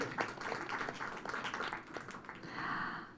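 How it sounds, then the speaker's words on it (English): Faint applause from a conference audience at a CSW69 side event on sexual and reproductive rights and climate justice, with scattered quick claps that rise briefly before settling. "Can we have a round of applause?"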